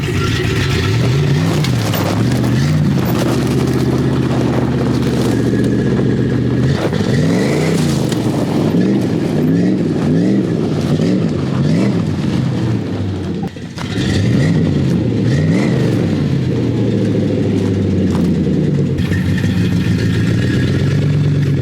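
A Chrysler 5.9 engine in a home-built vehicle revs up and down repeatedly, loud and close, its rising and falling roar continuing steadily with no talk over it.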